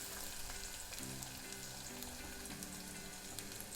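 Finely chopped small onion sautés in a pan after garlic has browned, for a traditional Konkani meal, giving a soft steady sizzle under a faint background hum, close and unbroken.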